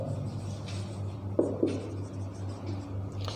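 Pen or chalk writing out a maths solution for an increasing and decreasing function problem, a soft steady scratching with a couple of sharper taps, over a constant low electrical hum, no talk.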